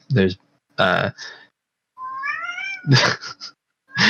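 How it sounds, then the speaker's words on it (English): A cat whines in the background with drawn-out, rising and falling meows, heard between stretches of close conversational talk. "there's my cat whining in the background"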